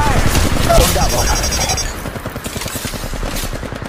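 Rapid automatic gunfire in the mobile shooter Apex Legends Mobile, dense bursts of shots with booming impacts, loud and close, later thinning into quicker rattling fire, with game voice callouts mixed in.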